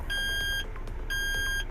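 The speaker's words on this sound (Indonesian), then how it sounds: "di sini ya kita tekan ke atas, set. Nah alarmnya bunyi" A Hino mining dump truck's inter-wheel diff lock alarm sounds in the cab as two clear, high-pitched electronic beeps, each about half a second long, over a low steady engine rumble.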